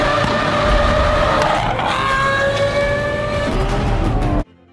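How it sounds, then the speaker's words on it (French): A Lamborghini SVJ's naturally aspirated 770-horsepower V12 roars loudly at high revs, pitch climbing and dipping through a gear shift before cutting off abruptly. "770 chevaux bruts, moteur Lamborghini V12 à aspiration naturelle"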